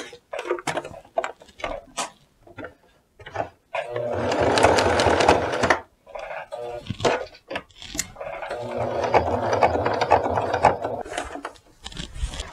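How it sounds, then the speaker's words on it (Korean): A sewing machine stitches a jacket pocket in fast mechanical bursts, two longer runs of rapid clattering needle strokes set between short stops and handling clicks, heard up close with no talking. "그 다음에 요거 주머니 한번 박아 보겠습니다"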